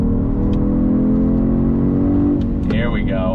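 A 2022 Genesis G70 sport sedan engine holds a loud, steady drone, then blips sharply in a rising rev after a downshift on track, heard close from inside the cabin.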